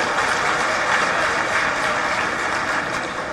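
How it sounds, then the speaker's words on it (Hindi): A large audience at the Global Investors Summit 2025 in Bhopal applauds loudly to welcome the chief minister, a dense, steady wash of clapping that holds at full strength throughout with no voice over it. "हमारे यशस्वी मुख्यमंत्री जी का भी जोरदार तालियां बजाकर स्वागत करें"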